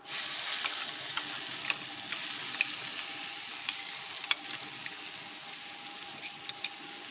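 Shredded cabbage with turmeric frying in hot oil, a continuous bright sizzle close up with scattered small pops and crackles, steady and alone.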